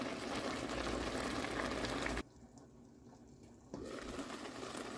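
Collard greens steam in an iron pot with a steady, close hiss. About two seconds in it drops to a quieter murmur, then returns at full strength near the end.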